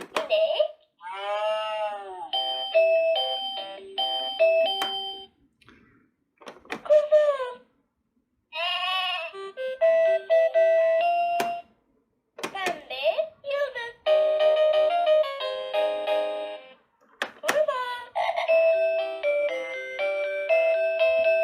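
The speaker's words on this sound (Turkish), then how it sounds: "Daha sonra üzerindeki hayvanın sesini çıkartıyor ve müzik çalmaya devam ediyor." An electronic Bondigo activity table toy plays chiming tunes in bursts, with a synthetic animal call and a recorded voice naming colors and shapes between the jingles, separated by short silences.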